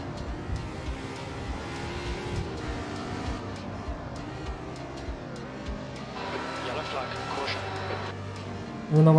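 A race car in the video game Assetto Corsa, its engine droning and shifting pitch under a voice talking over it, ending in a louder burst.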